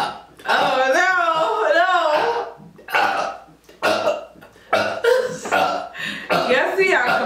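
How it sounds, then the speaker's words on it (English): Loud burps in quick succession from people eating Chinese food during a mukbang burping contest, with close talk and laughter between them. "this has become a burping competition"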